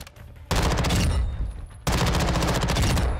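Automatic gunfire from a weapon with a 50-round magazine at a shooting range in the game Warzone: two sustained bursts of rapid, loud shots, the second starting after a brief lull.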